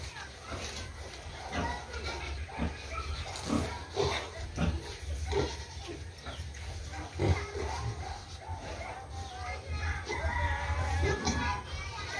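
Pigs grunt and squeal in a farm pen while chickens cluck and a rooster crows nearby. The animal noise is continuous and fairly loud, with a person talking over it.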